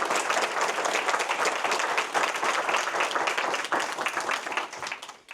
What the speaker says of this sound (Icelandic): ég legg til að gefa Kjartani gott klapp.